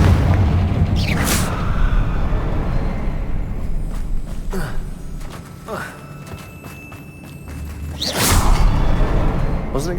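A Confringo blasting spell explodes in Hogwarts Legacy: several deep booms with whooshing bursts of spell energy, loud and close, one big blast near the end, under a light game soundscape.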